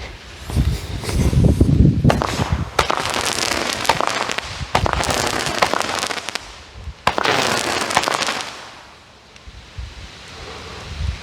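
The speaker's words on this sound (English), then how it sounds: "we've got the Green Monster by Alien Fireworks" A Green Monster firework by Alien Fireworks, a small 200-gram cake, fires loud repeated bursts of comets that crackle sharply, several volleys in a row with brief pauses and wind noise between them.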